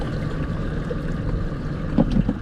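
A boat's outboard motor idling and shifting as the boat is steered onto a trailer in high wind and current: low steady engine rumble under heavy wind noise, with a few knocks near the end.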